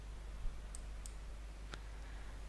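A few faint, crisp mouse clicks sound at irregular intervals against a quiet hum while clicking a Next button in an Amazon Web Services console.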